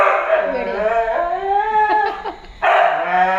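A husky vocalizes close by in drawn-out, whining howl-like yelps with a short pause, sounding eager rather than sharply barking.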